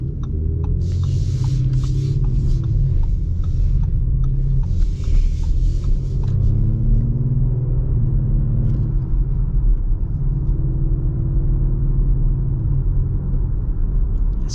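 A 2025 Audi SQ5 cruises in auto mode with a low, smooth engine hum and steady road rumble heard from inside the cabin, plus a few faint clicks and brief hiss early on.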